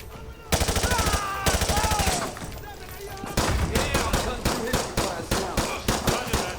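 Rapid bursts of automatic gunfire from Call of Duty Modern Warfare 2 Remastered, loud and close, with sustained volleys broken by short pauses and single sharp shots, while a voice talks over the shooting.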